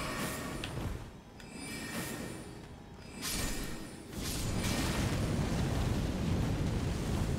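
Magic detonating in Elden Ring during a PvP fight: a rumbling, crackling blast that swells, dips, then settles into a sustained, heavy roar that fills the final seconds.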